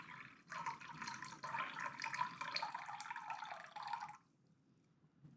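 Water poured into a container for gluten-free sourdough dough, a steady splashing stream lasting about four seconds at close range before cutting off to near silence.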